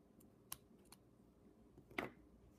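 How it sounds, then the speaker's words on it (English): A few sharp, quiet snips from scissors cutting crochet yarn, close by, with a louder cut near the end and soft handling sounds between. "Now I'm going to get my scissors again,"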